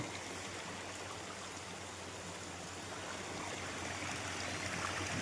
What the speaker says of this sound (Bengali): এই যে পানি ভরা হইতেছে তনে, এই সিস্টেম।